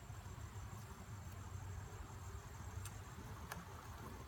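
Honeybees hum steadily around an open hive during an inspection, a continuous low drone close by with no talking.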